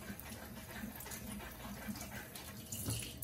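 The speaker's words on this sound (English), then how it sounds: "First, gotta wash the lemon." Tap water runs steadily from a kitchen faucet while a lemon is washed under it, a continuous close splashing hiss with slight surges as the fruit moves through the stream.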